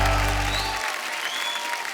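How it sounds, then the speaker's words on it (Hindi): Loud audience applause and cheering welcoming a singer onto a stage show, a dense burst of clapping that fills the whole moment. "आप सबकी जोरदार तालियों के बीच"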